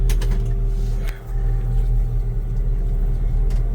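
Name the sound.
1966 Chevy C10 truck engine running while driving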